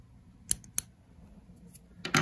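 Scissors snip fly-tying material, purple rabbit hide on a Bunny Leech fly, in a few sharp, close, crisp cuts with quiet pauses between them.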